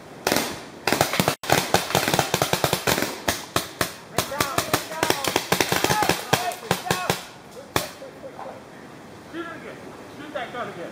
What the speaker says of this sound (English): Shoot that gun again.